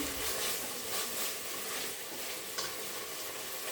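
Ground cumin and coriander paste with ginger and garlic paste sautéing for bhuna khichuri, a steady close sizzle and hiss with faint stirring, no voices.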